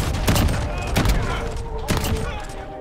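VLK Rogue shotgun blasts in Call of Duty: Modern Warfare, three sharp booming shots spaced about a second apart over a background of game noise and faint talk.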